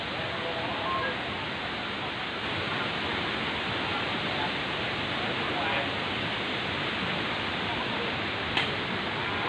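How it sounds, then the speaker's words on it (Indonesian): A river flows below a hillside bamboo-cutting site, a steady dense broadband rush of water heard close and constant, with a faint click near the end. "Ini aliran sungai di bawahnya juga"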